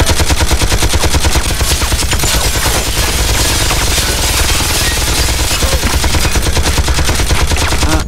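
Automated security guns firing in Project I.G.I, a loud, unbroken rapid rattle of machine-gun bursts that fills the whole stretch without pause.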